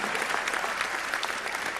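Indoor audience applause at a city's State of the City address, a dense, steady clapping from a large crowd filling the whole moment.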